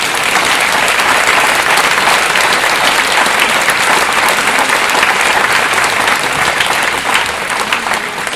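An audience applauding loudly at a talk, dense sustained clapping from many hands filling the room, steady and close for several seconds.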